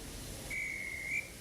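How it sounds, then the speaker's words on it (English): A railway guard's whistle from a Thomas & Friends video game gives one clear, shrill, steady blast lasting under a second above a quiet background. "Just then, the guard's whistle blew, and the two engines set off."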